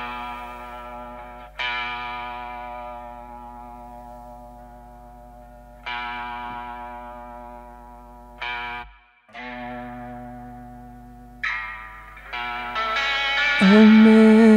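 Sustained electric guitar chords drenched in heavy distortion and chorus-like effects in a shoegaze arrangement, each strum ringing out and slowly decaying, with fresh strums every few seconds and a denser, louder swell at the end.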